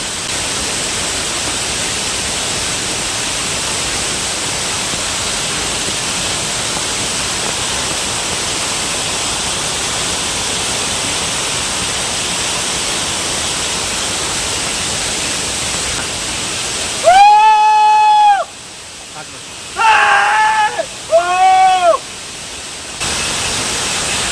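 Yadadante Abbi waterfall in Coorg (Kodagu) gives a continuous broadband roar of falling water, steady and loud throughout, with a few voices speaking briefly near the end.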